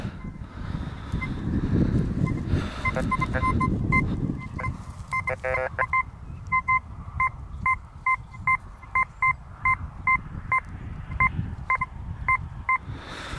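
Metal detector sounding over a vegetable garden during a dig, giving a steady run of short, evenly spaced electronic beeps, faint beneath low background noise.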